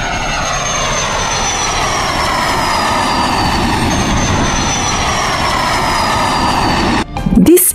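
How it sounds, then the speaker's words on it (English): A fighter jet roars past in a loud, steady, broadband engine rush with a slowly falling whine, ending in a short burst of other noise. "This is a fighter jet, a very fast fighter jet."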